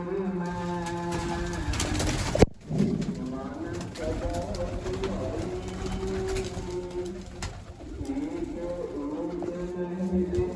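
Pigeons coo repeatedly nearby in low, rolling calls, with a brief sharp clatter partway through.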